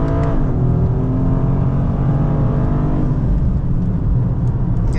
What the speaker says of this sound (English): you can just bounce off the rev limiter for a little bit, even going around a corner like that